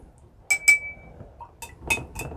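A utensil stirs a rooting solution for sweet potato slips in a glass container, giving a few sharp clinks, one ringing tone, then a quieter cluster of taps near the end, close and clear with no talking.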